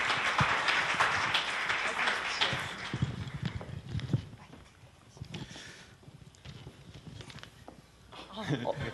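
Applause from an audience at a 2012 corporate culture and arts forum greeting an invited speaker, a broad clatter of clapping that swells early, thins toward the middle and rises again at the end.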